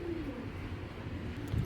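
Black checker pigeons give soft, low cooing that is faint against a quiet background, with a brief murmur near the end.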